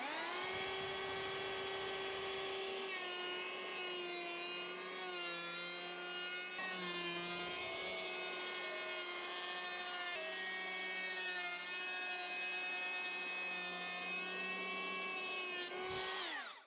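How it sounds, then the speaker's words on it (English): A loud, steady high-pitched power tool whine runs almost continuously, its pitch wavering slightly, from planing and sanding wood up close. "now I need to do some more sawdusty work, some planing, and some sanding"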